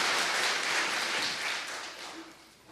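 Church congregation applauding during a Sunday service: a dense, steady wash of clapping from many hands that holds for several seconds and eases off slightly at the end.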